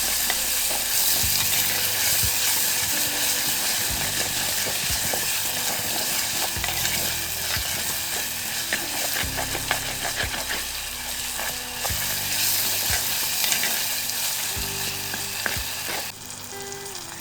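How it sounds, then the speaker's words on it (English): Chopped onions, tomatoes and green chili fry in a pan, a loud steady sizzle running throughout, with repeated scraping stirs and clinks of a utensil against the pan, no voices. "she adds some chopped onions and tomatoes, and she adds some green chili also and stirs well"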